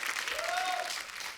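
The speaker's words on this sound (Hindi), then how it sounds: "जोरदार तालियां सारा के लिए" Studio audience applause, a short burst of dense clapping at moderate volume, with a voice briefly rising over it.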